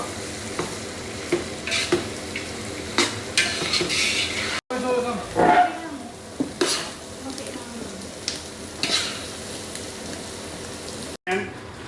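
Soy sauce goes into a pan of pancit and gets stirred, a steady sizzle running under repeated scraping and clinking strokes, with brief voices in the background.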